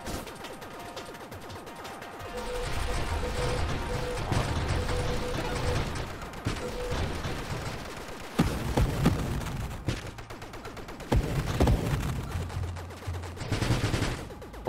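A triple shot weapon fires in the space shooter game Nova Drift, giving dense, rapid bursts of synthetic gunfire with crashes and booms layered over a constant game soundscape, loud and continuous throughout.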